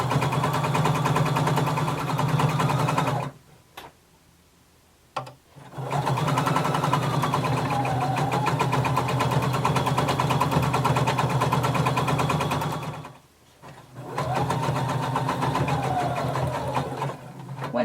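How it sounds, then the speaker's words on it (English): A sewing machine stitches a seam with a steady, close, mechanical whirr, running in long bursts broken by two short pauses. "we're going to sew until we get to the center back"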